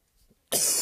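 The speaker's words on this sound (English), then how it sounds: "Just coughed." A single sharp cough bursts out abruptly after a brief near-silence, loud and close during a lecture on complete spaces.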